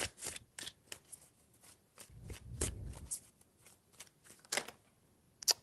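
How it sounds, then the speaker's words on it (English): Tarot cards being shuffled, three rounds of quick papery riffles and bursts of rustling with short pauses between, close and fairly quiet with no talking. "Three shuffles."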